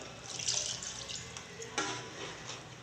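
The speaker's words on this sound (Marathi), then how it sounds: "ते पाणी यामध्ये ओतून घेतलं" Water pours and splashes steadily into a pot of mixed vegetable bhaji, a bright running hiss with a brief louder splash partway through, close by.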